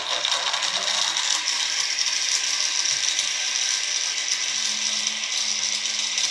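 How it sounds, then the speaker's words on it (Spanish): An electric blender whirs loudly and steadily at close range, blending homemade shampoo ingredients for a minute. The motor drone is unbroken until it cuts off abruptly at the end. "ya licuamos nuestros ingredientes por un minuto"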